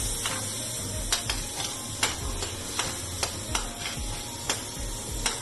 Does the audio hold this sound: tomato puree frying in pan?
yes